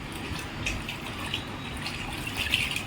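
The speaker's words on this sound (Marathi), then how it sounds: "इथे मी लादी पुसून घेत आहे" A wet cloth mops a floor with water, giving soft intermittent swishes and splashy wipes, quiet and close, with light watery sounds running throughout and no voices.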